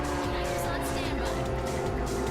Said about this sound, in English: I think I just heard some nitrous